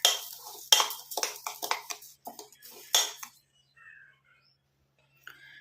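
An iron kadai is picked up and handled, giving a quick run of sharp metallic clanks and scrapes that fade out, leaving near silence with a faint clink at the end.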